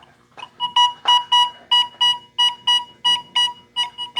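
XP Deus II metal detector sounding over a quarter coin, a string of about a dozen sharp, bright, evenly spaced beeps, close and clear, with no talking.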